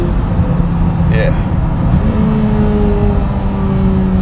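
A 2026 Corvette Z06 3LZ engine and exhaust hum steadily from close range with a low droning tone, while people talk over it.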